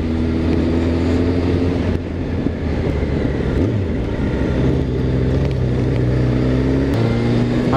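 A motorcycle engine drones loud and close on a German country road near a cemetery, holding a steady tone with a few pitch shifts and brief dips under constant wind noise, no voices.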